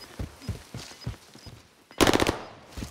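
Bursts of gunfire strike the player in the battle royale shooter Warzone, scattered shots early on, then a loud dense volley around the two-second mark, close and harsh, with no talk over it.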